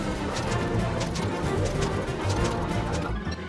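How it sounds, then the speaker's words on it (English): Bird cooing in the video game Don't Starve Shipwrecked, soft repeated coos layered over steady, dense game ambience throughout. "Quit playing with the bird."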